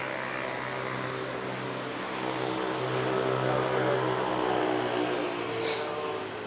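A DHL Airbus A330 cargo jet taking off and climbing steeply from Manila airport, a sustained distant engine roar that swells slightly and holds steady throughout.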